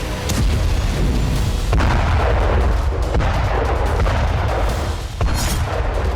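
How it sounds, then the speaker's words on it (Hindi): Explosions at a power plant struck by drones in a wartime attack, a dense continuous barrage of booms and heavy rumble with sharp cracks, loud and sustained with no voices. "हमले के बाद प्लांट से जबरदस्त काला धुआं उठ रहा है। दावा है कि रूस ने यहां ईरान ड्रोन से हमला किया, जिसके बाद धमाके की आवाज सुनी गई।"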